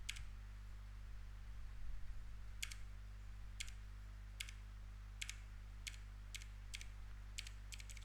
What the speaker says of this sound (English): let me just type the command